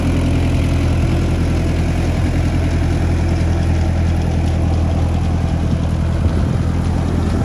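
Beach groomer tractor running on the sand at a Caribbean beach by the Riu Palace Mexico hotel, a loud steady idling engine drone held close throughout with no talk.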